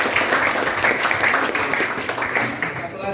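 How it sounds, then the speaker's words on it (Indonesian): Close, loud applause from a small group at a coaching session, a dense patter of clapping that holds steady and then tapers off at the end. "Jadi kita beri aplaus tentang"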